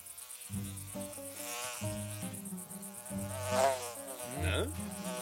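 A cartoon fly buzzes in a continuous, whining drone that wavers in pitch and loudness throughout, heard alone in an animated Zorro series.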